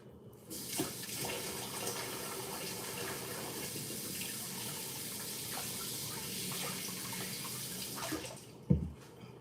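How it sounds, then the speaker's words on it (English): Tap water runs steadily into a sink for hand washing, a broad continuous splashing rush that holds for several seconds, then cuts off with a brief knock near the end. "I should wash my hands."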